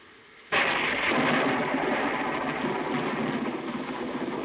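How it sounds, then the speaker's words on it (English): Thunder during a thunderstorm: a sudden loud crack breaks out of a quiet background and rolls into a long, broad rumble, with a rain-like hiss, heard alone. "I love thunderstorms, don't you?"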